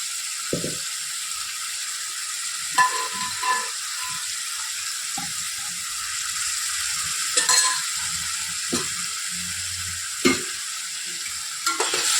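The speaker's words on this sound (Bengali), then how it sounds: "মাংসটা দিয়ে কষাতে লাগবো ভালো করে।" Boiled mutton being stir-fried in a pan for mutton biryani: a steady sizzle runs throughout, with intermittent scraping and stirring strokes of a spatula against the pan, close and fairly loud, and no voices.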